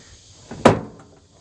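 The door of a 1975 Ford F100 pickup truck swings shut with one firm, close thud, preceded by a slight pop of the latch.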